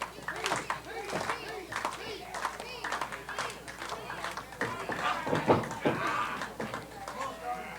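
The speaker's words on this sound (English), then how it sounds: "Crowd showing their support for MVP" A wrestling crowd at an independent show claps in rhythm in support of a wrestler named MVP, a mid-distance arena swell with scattered cheers, under a commentator's talk.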